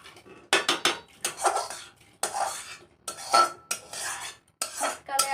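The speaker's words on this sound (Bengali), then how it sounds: "ডালটা ভেজে নিলাম, একটু ভেজে নিয়ে এই যে ধুয়ে নিচ্ছি।" Fried dal being washed in a pot, with bursts of water sloshing and grains rattling against metal, separated by brief pauses and heard up close.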